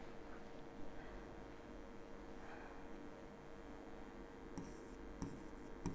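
Pen writing out a maths problem on paper: faint, steady scratching and rubbing strokes under a low background hiss, with a few sharper taps near the end.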